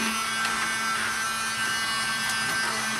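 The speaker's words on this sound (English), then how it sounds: "you're going to blow compressed air at the computer while vacuuming the dust up" Short bursts of compressed air and a running vacuum cleaner clearing dust from a computer, a loud, steady whooshing drone with a constant hum beneath, close up and with no talk.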